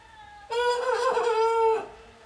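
A rooster on a farm lets out a single strained crow, a loud sustained call lasting over a second that tails off, set against faint background quiet.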